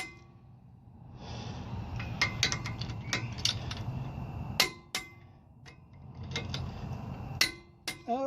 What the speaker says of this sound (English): Okay, we are torqued.